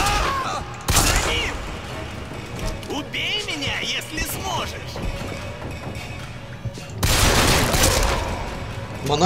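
Gunfire from the video game BioShock Infinite, with a sniper rifle in use, comes as a sharp loud burst near the start and a longer, heavier volley near the end, separated by busy in-game sound.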